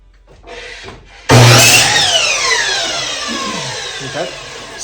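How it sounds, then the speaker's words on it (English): A handsaw cuts about a foot off a 3/4-inch wooden board meant as a bow-drill hearth board: one loud, abrupt stroke is followed by a sustained, ringing, scraping rasp that slowly fades, with no voices. "So I'll probably cut about a foot off."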